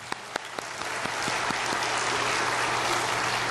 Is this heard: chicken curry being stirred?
no